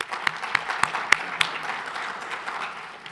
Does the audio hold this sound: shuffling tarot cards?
no